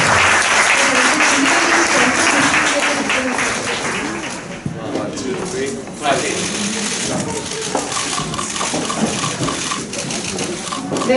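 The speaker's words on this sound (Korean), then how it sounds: "박수로 같이 감사합니다." Audience applause at a press conference for the Korean production of the musical Cyrano, a dense steady wash of clapping from a crowded hall, loud and continuous, with some voices mixed in.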